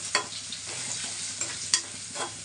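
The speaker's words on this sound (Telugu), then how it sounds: "ఉల్లిగడ్డ వేగిందండి పసుపు వేస్తుంది" Onions fry with turmeric in a pan as a spoon stirs them, giving a steady close sizzle broken by several sharp scraping strokes with no voices.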